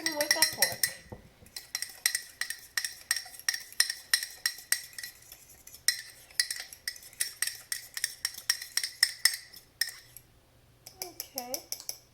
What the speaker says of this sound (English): So it's mixed with the fork. I'm mixing with a fork.